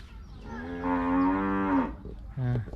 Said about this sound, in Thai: วัวเรียกแล้วนะ